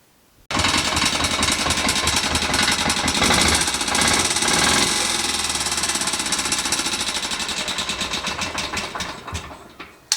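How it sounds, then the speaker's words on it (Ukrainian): A Motor Sich D-250 small engine on a walk-behind tractor, carburetor just adjusted, starts up abruptly and runs loud and close with a rapid rattling knock, gradually easing in level toward the end. "Двигун нормально працює, трішки там крутнув карбюратор."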